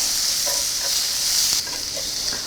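Zucchini sautéing in a pan gives a steady bright sizzle, with faint scrapes as it is stirred.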